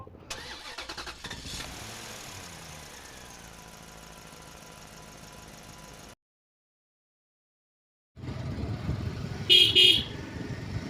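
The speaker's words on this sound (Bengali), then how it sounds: "আমরা এখন রওনা হয়েছি বাড়ি থেকে, দুটা মোটর সাইকেল নিয়ে যাচ্ছি" Two motorcycles start up at home before setting off, an engine cranking and catching into a steady idle hum, then a silent gap before a louder engine roar returns with a couple of sharp horn toots.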